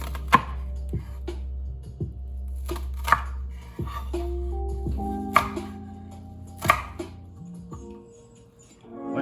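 A kitchen knife in need of sharpening chops an onion into small pieces on a board, giving a string of sharp, irregular taps at close range over a low steady hum.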